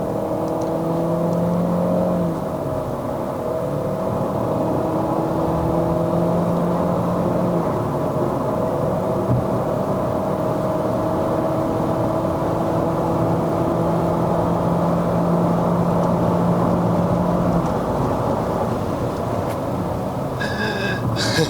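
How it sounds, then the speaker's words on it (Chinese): A 2023 Chery Omoda 5 1.5T turbo launched with launch control at full throttle on a Malaysian test drive, its engine a loud, steady droning whir heard from inside the cabin throughout, with no talk. "做一点 launch control， 踩到完"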